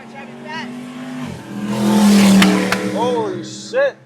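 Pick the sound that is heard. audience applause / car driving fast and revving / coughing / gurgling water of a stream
car driving fast and revving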